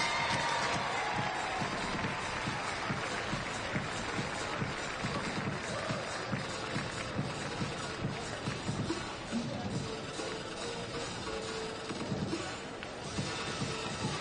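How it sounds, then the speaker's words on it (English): Faint, distant applause from a crowd at a 2023 pro swim meet in Fort Lauderdale after the women's 800 m freestyle, a steady wash of clapping that holds without a break. "a big round of applause for our 800 freestylers"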